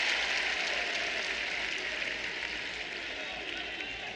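A crowd at a college wrestling match, 133-pound bout between Iowa State and Nebraska-Kearney wrestlers, applauds in a steady, dense wash of clapping that holds for several seconds and slowly fades slightly.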